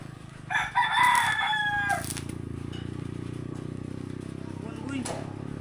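A rooster crows once, close and loud, at a home building site where corrugated roofing is being installed, over a steady low mechanical drone with faint voices and a brief later rustle.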